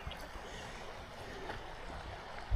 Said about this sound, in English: I like hearing that water.